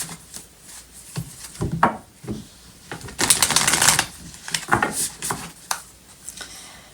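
Tarot cards are shuffled by hand in a quick burst of papery riffles and soft slaps, near and fairly loud, with a denser flurry in the middle and no talking.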